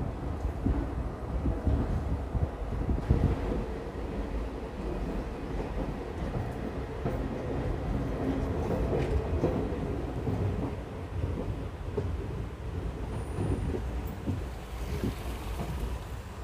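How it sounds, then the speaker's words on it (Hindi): Heard from inside the 14230 Haridwar Express passenger train as it departs Rishikesh station, a steady, loud low rumble and clatter of the moving coaches that continues throughout. "हमारी ट्रेन का डिपार्चर योग नगरी ऋषिकेश रेलवे स्टेशन से हो चुका है"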